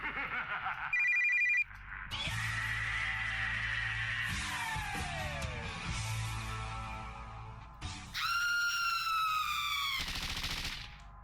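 Telephone ringing in the video game "Totalnie Dziwna Gra 2": bursts of electronic bell tones, a short one early on and a longer, louder ring near the end, between other game sound effects and background noise.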